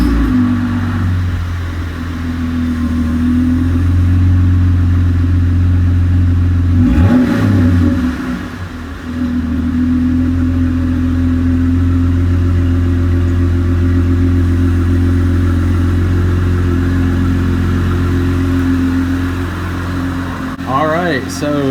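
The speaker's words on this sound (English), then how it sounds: "So it's actually not that loud, which is actually good because I have to daily drive this thing" Car with a muffler delete exhaust idling and revving steadily at close range, a low droning engine note with a brief dip in the middle, fairly loud but not harsh.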